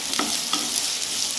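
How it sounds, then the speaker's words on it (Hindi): Onion frying in a tablespoon of oil in a pan, a steady soft sizzle with a couple of faint stirring clicks, close and continuous. "1 टेबल स्पून तेल डाला है इसमें, और प्याज डाल दिया।"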